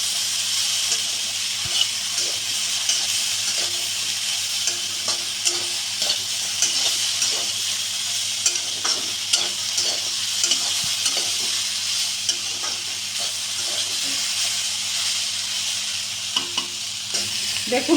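Drumstick pieces coated in spices fry in a pan with a continuous close sizzle while a spatula scrapes and stirs in frequent irregular strokes throughout.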